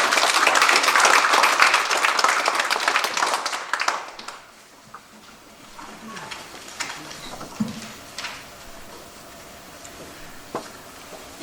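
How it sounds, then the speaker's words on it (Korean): Applause from the congregation at a New York Korean elders' association New Year thanksgiving service, a dense burst of clapping for about four seconds that then thins to a few scattered claps amid quiet room noise. "박수로 격려 부탁드리겠습니다"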